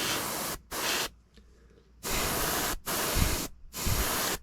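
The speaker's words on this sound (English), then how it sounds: "it's spraying on real nice right now" Bursts of airbrush spray laying down Vallejo model acrylic paint thinned about half and half with thinner and flow improver, a steady close hiss that cuts on and off several times with brief pauses between passes.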